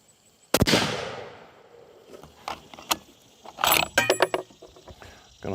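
Sharp rifle shots from a Weatherby Model 307 chambered in .257 Weatherby Magnum at a range, one loud close blast with a ringing tail followed by clanks and clicks of handling.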